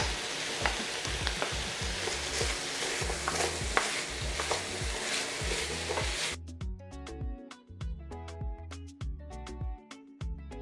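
Boniato sweet potato and crushed garlic fry in a pan, a busy close sizzle with stirring scrapes for about six seconds. Then the frying drops away and a quieter tonal backing with sharp ticks takes over.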